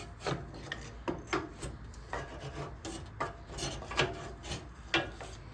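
Hand file rasping along the blade of a 70-year-old reel mower during sharpening, a steady run of scraping strokes about one per second, close and moderately loud with no talking.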